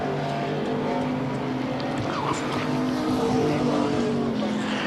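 Race cars roar around a short track during a night race, a dense continuous engine drone with layered harmonics, steady and moderately loud throughout.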